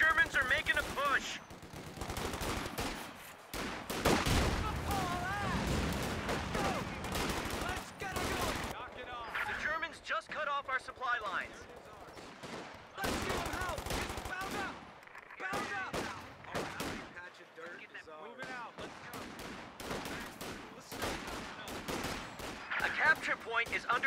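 Battle in the World War II strategy game Company of Heroes 2, with bursts of rifle and machine-gun fire, explosions and shouting soldier voices crowding together, dense and continuous with short lulls.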